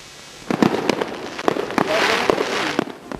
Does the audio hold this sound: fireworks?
yes